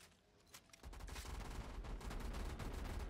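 Rapid gunfire from an upgraded pack-a-punched weapon in Call of Duty Zombies, a quiet lead-in giving way to a sustained, loud burst of closely spaced shots that continues to the end.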